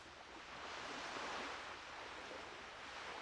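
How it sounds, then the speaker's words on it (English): Water ambience in a video game, a steady, loud wash of rushing, surf-like noise with no clear direction, continuous and unbroken. "It's another thing I wish they could have tweaked a little was the water sound"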